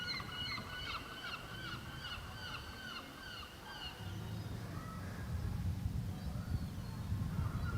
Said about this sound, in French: On a le bruit des mouettes.